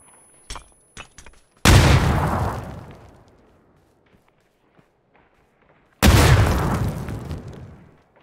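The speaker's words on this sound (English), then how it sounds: "Grenade coming in." Grenade explosions in the battle royale game PUBG: a few sharp distant pops, then a loud booming blast that rumbles away over about two seconds, and after a quiet stretch a second equally heavy detonation with a long decaying tail.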